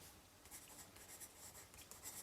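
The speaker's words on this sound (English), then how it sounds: "if necessary, write in pencil if you want to reuse it the following year" A pencil writes on paper on an advent calendar, making faint, close scratchy strokes in short irregular bursts against quiet room noise.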